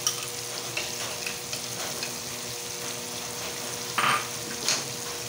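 Curd poured into a hot pan after fried prawns gives a close, continuous frying sizzle with occasional stirring scrapes and a brief metallic clink near the end.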